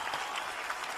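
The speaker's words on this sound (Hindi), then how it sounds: "बहुत सारी तालियां फवाद के लिए" Brief, faint burst of audience applause at a televised Pakistani entertainment show, a second of dense clapping that cuts off abruptly.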